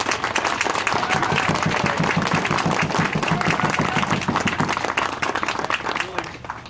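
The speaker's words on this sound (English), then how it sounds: "Round of applause for Tom." Hearty crowd applause for Tom at a pole unveiling at the Tahsis Coast Guard Station, loud and continuous with rapid individual claps, thinning out near the end as voices emerge.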